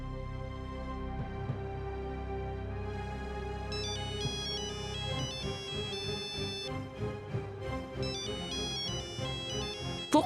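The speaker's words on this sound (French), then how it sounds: "Pourquoi Oudé a-t-il oublié son téléphone à la maison" A mobile phone ringtone plays a bright, repeating electronic melody over a bed of dramatic background music, ringing steadily for around ten seconds.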